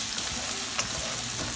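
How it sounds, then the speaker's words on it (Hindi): Ginger garlic paste sizzles hard in hot oil with browned onions for a matar keema, a steady bright crackle with a few stirring scrapes over the short stretch. "इसमें हम जिंजर गार्लिक पेस्ट डालेंगे और इसको एकदम एक मिनट के लिए कुक करेंगे"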